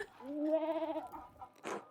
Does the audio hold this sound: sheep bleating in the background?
yes